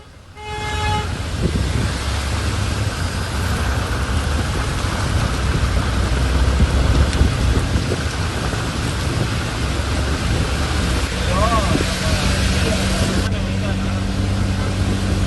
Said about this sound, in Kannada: ಸದ್ಯ ಜೋರಾದಂಥ ಮಳೆ ಆಗ್ತಿದೆ